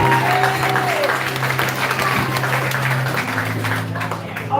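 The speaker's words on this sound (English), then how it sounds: "Let's applaud them" Audience applause at a Comfort Hall graduation ceremony, a steady wash of clapping from a crowd with voices mixed in underneath.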